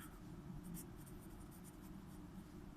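Pen scratching steadily across paper while a physics problem's position-vector solution is worked out by hand, a continuous close scratching with no speech.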